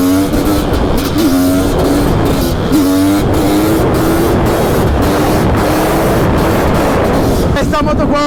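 A Honda CR500 motorcycle with a titanium double exhaust revving hard, a loud, close, raw two-stroke roar that rises and drops in pitch through repeated throttle blips, continuous for the whole stretch.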